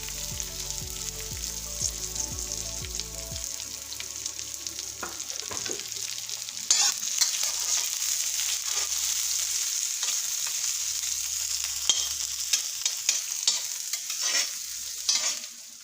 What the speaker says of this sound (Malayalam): വേപ്പില, പച്ചമുളക്, മരപ്പിടണ്ട. ഇതൊന്ന് വഴറ്റിയാണ്.